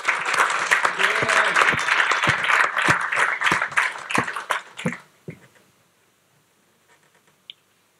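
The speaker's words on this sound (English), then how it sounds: "can you give a big round of applause to our first presenter from Muso.ai, Kieran De Kayser" An audience at a startup pitch event at Midem 2018 applauds a presenter, giving a dense burst of clapping for about five seconds that tapers to a few scattered claps and then near silence.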